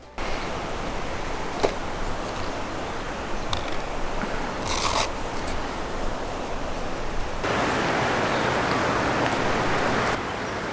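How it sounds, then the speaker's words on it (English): River rapids and a small waterfall give off a steady, hissing rush of flowing water, fairly close and even throughout, swelling slightly louder near the end, with no talk. "So this is all rapids, some here, and then over here there's like a little waterfall."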